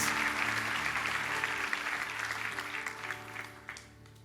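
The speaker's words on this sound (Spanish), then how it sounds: "Un aplauso para mis voluntarios acá" A church crowd claps steadily in loud, sustained applause that slowly thins and fades toward the end.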